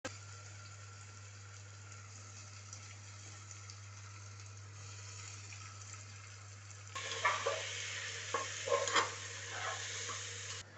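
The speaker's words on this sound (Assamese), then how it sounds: "এইটো পিঁয়াজটো দি দিওঁ তেলত" Onion dropped into hot refined oil for pulao: a quiet steady hum first, then a sudden crackling sizzle that swells over the last few seconds with scattered pops.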